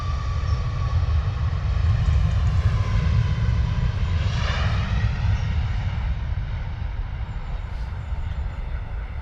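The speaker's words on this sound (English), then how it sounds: "Gorgeous rotation there from the Ryanair off to Prague this morning." A Ryanair passenger jet takes off for Prague from London Stansted, its engines a loud, sustained roar with a rising whine passing close by and staying heavy throughout.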